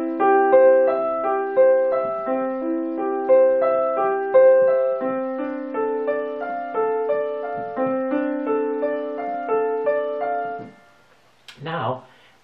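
A beginner's piano plays the opening measures of Bach's Prelude in C Major, steady arpeggiated broken chords rolling evenly for about eleven seconds, close and clear, then ending with a brief shuffling noise.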